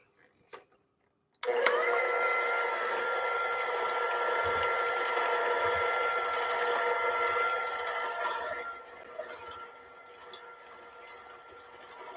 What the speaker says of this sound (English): This is heavy whipping cream. And we're going to use roughly half a cup to a cup.